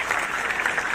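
Loud, dense applause from a school crowd at a judo demonstration in Puri district, continuous clapping close by and filling the whole moment.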